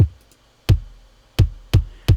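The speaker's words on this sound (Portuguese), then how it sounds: "Esse é o som do segundo kick isolado e tocando com o primeiro." Deep kick drum hits with no other sounds, the first alone, then a steady pattern of four punchy thumps with bright attacks and short boomy tails.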